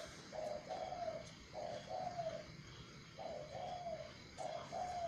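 A spotted dove coos in repeated, evenly spaced phrases of soft hollow notes, moderately near over a faint background hiss, with no people talking.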